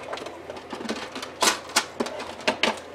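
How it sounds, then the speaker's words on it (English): A paper trimmer cutting excess off a laminated page marker, a series of sharp clicking snaps, about five distinct crisp strokes close up after a quieter start. "Let's use a paper trimmer to do it."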